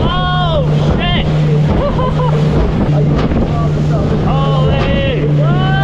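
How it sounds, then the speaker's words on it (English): Strong wind roaring over the microphone on a fishing boat running through choppy water in the Gulf, loud and constant alongside a droning engine, with people talking and shouting throughout. "It's very windy."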